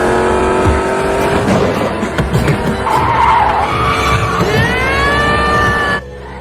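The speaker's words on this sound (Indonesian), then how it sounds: "membuat mobil tersebut melaju dengan kecepatan penuh tanpa bisa dikendalikan" A car speeding out of control skids with loud tire squeal and a rising whine over engine roar, continuous for about six seconds before cutting off abruptly into near quiet.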